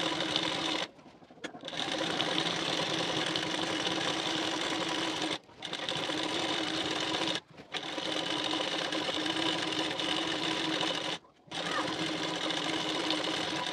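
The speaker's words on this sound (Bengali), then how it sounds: "খুলে নিয়ে পট্টির ঠিক কানা বরাবর করে একটি চাপ সেলাই দিয়ে নেবেন" A sewing machine runs in long steady bursts while stitching along the edge of a blouse neck strip, its close mechanical whir stopping briefly several times between runs.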